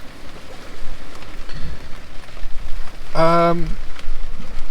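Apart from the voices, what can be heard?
heavy rain at night on a beach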